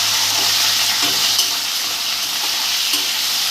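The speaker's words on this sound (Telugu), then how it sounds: "రొయ్యలు దాంట్లో వేసేస్తున్నాను." Prawns sizzle and fry in hot oil in a pan, a loud, dense, steady crackle with occasional stirring clinks, no voices.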